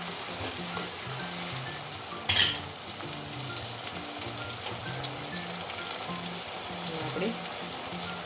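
A Kathiyawadi dhokli curry with green garlic sizzles loudly in a pan, a steady bright frying hiss with a short clatter of stirring partway through, close and continuous, with no talking.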